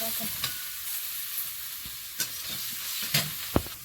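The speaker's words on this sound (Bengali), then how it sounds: "তেলে পাঁচ ফোড়ন তেজপাতা আর এই গাছের কুমড়োগুলো" Homegrown pumpkin pieces hit hot oil seasoned with five-spice and bay leaf, producing a sizzling hiss broken by scraping stirs and a few sharp clacks of a spatula against the pan.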